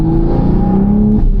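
An 840 whp Toyota Supra running on E85 revs hard during a street test, its engine tone climbing and holding in loud, close bursts from inside the car, with no talking.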